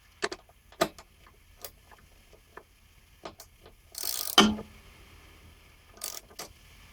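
Torque wrench tightening a bolt on a Briggs Yard King lawnmower to 75 inch-pounds: a sparse series of sharp, quiet clicks, spaced irregularly, with one louder rattling burst midway.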